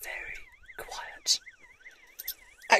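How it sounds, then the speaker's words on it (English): A Mongoose M60 battery backup siren sounds a quiet electronic warble that sweeps up and down repeatedly, with bursts of other noise breaking in between the sweeps. "it's really a Mongoose M60 battery backup siren"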